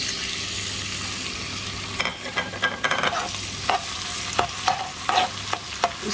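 Spices frying in a mix of olive and vegetable oil, a steady close sizzle broken by irregular scraping stirs in the pan.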